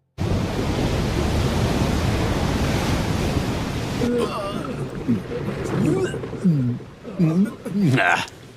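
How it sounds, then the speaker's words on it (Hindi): Ocean waves surge and wash in a broad steady roar through an animated sea scene aboard a sailing ship, loud and continuous at first, then voices talk over the surf for the second half. "ये लहरें तो कुछ भी नहीं थी"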